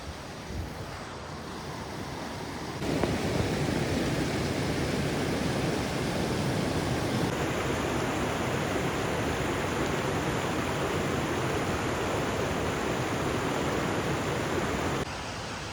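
Glacial meltwater stream rushing high on a mountain trek to Bhrigu Lake near Manali, about 14,000 ft: a steady, dense, close wash of flowing water with some wind, growing louder after a few seconds and continuing without voices.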